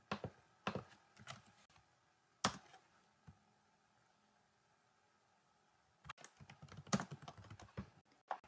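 Typing on a computer keyboard while entering text into a Salesforce flow element: sparse bursts of quick key clicks, close and faint, separated by a long quiet gap in the middle before a denser run of keystrokes.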